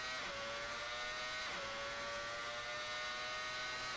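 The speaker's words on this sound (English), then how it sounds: "Create a nice echo there with that bridge" Benetton B195 Formula One car in Assetto Corsa, its high-pitched engine whine held steady and loud with a bridge echo, a brief pitch dip near the middle as it continues on.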